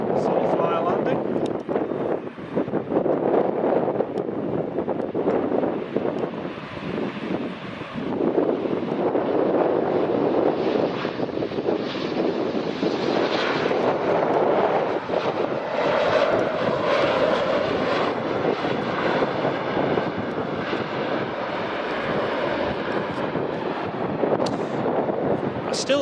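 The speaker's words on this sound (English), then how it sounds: "here's the City Flyer landing" BA CityFlyer Embraer airliner landing on runway 24 at Edinburgh Airport, a continuous broad engine roar heard from outdoors with wind buffeting the microphone, steady and fairly loud throughout, with a voice speaking over it.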